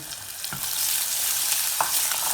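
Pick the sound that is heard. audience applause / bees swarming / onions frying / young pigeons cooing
onions frying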